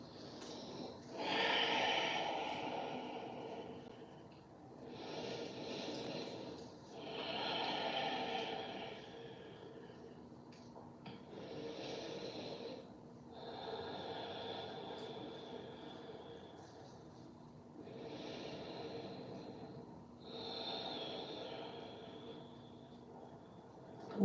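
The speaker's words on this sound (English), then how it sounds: "as well as the exhalations nice and long, really pushing out all the air." Long, deep exhalations during a yoga breathing exercise, several slow breath cycles pushing the air out, fairly close and soft, with no talking.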